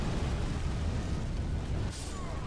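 A boss's fire breath attack in Dark Souls 3 roars as a continuous low rumbling burst, loud and steady for the full stretch with a brief hiss near the end.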